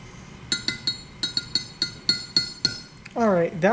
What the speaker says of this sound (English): now I use this small fork to mix the plastic, or the pre-plastic